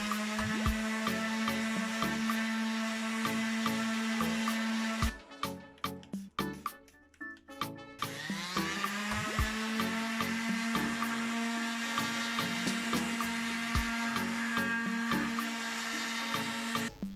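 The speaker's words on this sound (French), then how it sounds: "j'ai terminé avec un ponçage à l'eau avec un grain de 3000" An electric sander wet-sands epoxy resin and wood at 3000 grit, a steady high whine with harmonic hum that briefly drops out and sputters with gritty contact noise before the motor resumes and runs evenly to the end.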